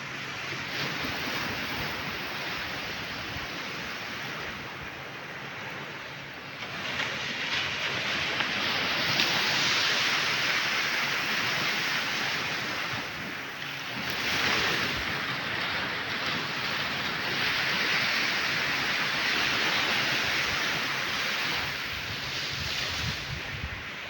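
Black Sea waves wash onto the shore at Albena, Bulgaria, in a steady roar, swelling and receding in slow surges, with no voices.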